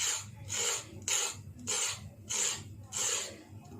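Fresh carrots rasped on a grater for gajar ka halwa, six rhythmic scraping strokes close up, each a bright hissing rasp with short pauses between.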